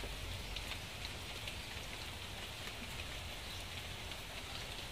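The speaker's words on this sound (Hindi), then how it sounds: "बाहर बारिश भी हो रही है" Rain falling outside, a dense, continuous hiss and patter at steady volume for the whole stretch, with no talking over it.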